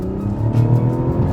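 A Mazda CX-60's 3.3-litre inline-six turbo mild hybrid engine revs hard when the throttle is opened, a loud, close, steady low engine roar that rises in a strong swell partway through, with no talking.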